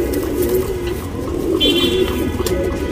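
Chapper patta tournament pigeon cooing close by in Bangalore, a soft, continuous throaty rolling coo with faint background hum and no speech.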